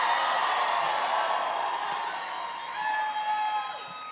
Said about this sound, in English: This looks like a loud crowd